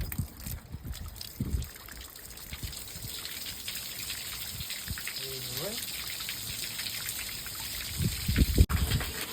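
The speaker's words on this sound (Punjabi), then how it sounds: "ਉੱਪਰੋਂ ਦੀ ਵਗਾ ਦੇ ਪਾਣੀ ਇੱਕ ਵਾਰੀ" Water spills over the top of a rooftop storage tank during cleaning, a continuous splashing trickle at moderate level, with brief voices talking over it and a louder gush near the end.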